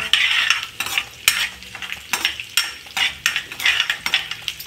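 Garlic stir-fried in a pan for a dry horse gram dish, with a constant bright sizzle and a quick, regular series of spatula scrapes and taps against the pan, close up and with no talk.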